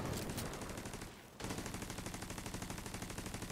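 Rapid rhythmic gunfire in The Division 2, a long run of evenly spaced shots that breaks off for a moment and then resumes, loud and continuous with no talk.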